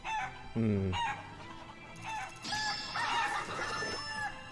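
Chickens in the video game Shenmue 3 cluck and crow loudly and close, a rooster's drawn-out cock-a-doodle-doo rising over repeated clucks and squawks throughout.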